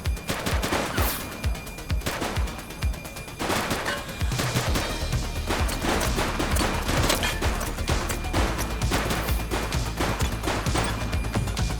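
Loud volleys of gunshots in a police shootout, with rapid automatic bursts and sharp single cracks packed tightly together over a steady background rumble, close and continuous with no talk.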